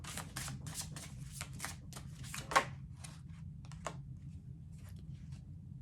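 Tarot cards are shuffled in a quick series of crisp riffling bursts, close and fairly quiet, with one sharper snap partway through and no talking.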